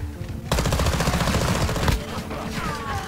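Rapid bursts of automatic gunfire in Call of Duty: Modern Warfare II, a dense rattling volley for about a second and a half, then quieter game sounds.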